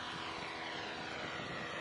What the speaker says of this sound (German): jetzt habe ich den Motor abgeschaltet,